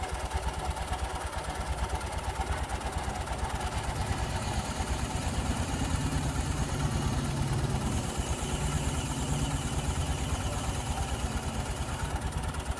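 A motorcycle engine powering an odong-odong ride runs steadily close by, a rough, vibrating idle that drones without pause throughout, with no talk.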